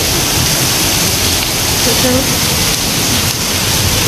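Heavy rain pours as a dense, loud, continuous hiss that fills the whole stretch, with brief indistinct voices underneath.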